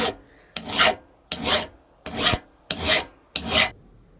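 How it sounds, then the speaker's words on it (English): Six rasping hand-file strokes on cut aluminium pulley parts, each a short, close scrape with brief pauses between them in an even rhythm. "Just going to give them a quick clean up with the file whilst they're still together."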